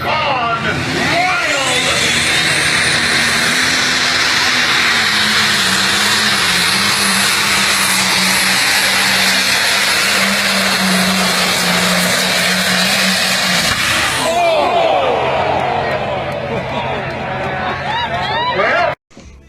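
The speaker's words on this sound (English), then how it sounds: "As he gets it warmed up, David Henderson and Stray Horse Gone Wild." Modified pulling tractor engine warming up, a loud sustained drone with a steady low tone that shifts pitch near the end, heard close and continuous with a voice talking over it.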